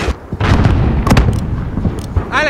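Mortar fire and explosions in the Call of Duty Modern Warfare mission Highway of Death, with repeated heavy booms and blasts over a loud, constant battlefield rumble and no talk.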